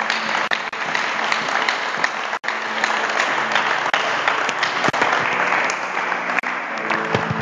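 A church congregation applauds continuously in a loud, dense wash of clapping that holds steady throughout, with faint voices mixed in.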